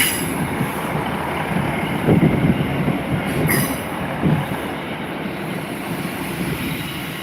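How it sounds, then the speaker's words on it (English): A Class 156 diesel unit pulls into Lincoln station fairly quickly, its rumble rising and easing with squealing wheels and rail clatter at moderate distance, and no voices present. "here's one of our native units, 156405. Coming in a bit quickly for my liking"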